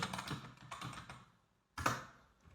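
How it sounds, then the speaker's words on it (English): Typing on a computer keyboard, a quick run of key taps with a short pause before a final burst of keystrokes, close and fairly quiet with no talk. "So I will just type in colleague over here."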